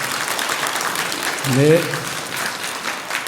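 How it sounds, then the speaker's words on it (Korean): Audience applause at a Buddhist dharma assembly rises briefly mid-clip over steady hall ambience, with a voice speaking just before it. "여러분들의 행복을 위해서 큰 박수 한번 보내주세요."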